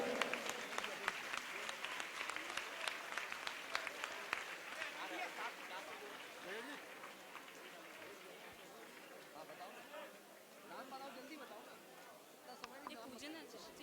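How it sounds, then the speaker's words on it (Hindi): Audience applause at a Jain religious gathering for a spiritual leader's Mahavir Nirvan celebration, a steady wash of many hands clapping that fades gradually, with crowd chatter and a voice over it. "ऊपर उठा करके जोरदार तालियां बजाएं"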